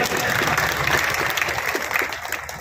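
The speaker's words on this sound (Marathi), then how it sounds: "सर्वांनी जोरात टाळ्या वाजवून ऐकू यायला पाहिजे" An audience at a felicitation ceremony for a PhD recipient claps loudly and continuously, a dense crowd applause filling the whole moment.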